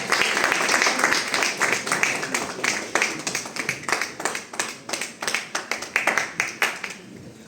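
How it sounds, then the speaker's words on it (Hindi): A crowd at an AWPL business gathering claps loudly, starting as a dense burst of applause that settles into rhythmic, unison clapping, with a voice faintly present. "तालियां बज रही साथियों, जोरदार तालियां"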